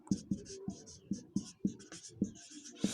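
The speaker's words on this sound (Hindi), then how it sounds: "उसके बाद फिर हम सिलिकॉन लिखते हैं" Chalk taps and scrapes on a board as a teacher writes the word for silicon, a string of short, sharp strokes in a quick, uneven rhythm, close and distinct with no talk over them.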